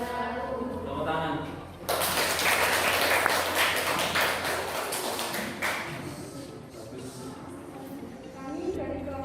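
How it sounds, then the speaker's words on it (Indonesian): Applause from a classroom group after a class presentation, a dense burst of clapping lasting several seconds, fairly close, with voices before it. "Tepuk tangan."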